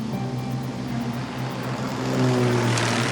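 A small propeller airplane's engine roars steadily during takeoff, a loud continuous droning hum with a buzzing tone that swells slightly toward the end, close and with no talk over it.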